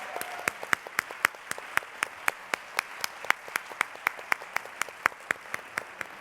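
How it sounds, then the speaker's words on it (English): Audience claps in a steady, fairly sparse rhythm for the Radcliffe Institute staff at the Radcliffe Day 2019 ceremony; individual sharp claps stand out clearly, moderately loud, with no talk over them. "please join me in applauding the staff of the Radcliffe Institute"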